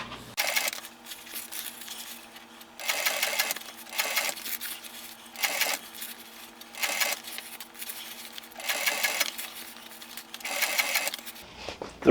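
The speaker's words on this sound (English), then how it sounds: "I'm going to put a top stitch on there." A sewing machine top-stitches fabric on a Dodge Ram seat bottom being reupholstered, running in about five steady bursts separated by short pauses, close and moderately loud with no talk.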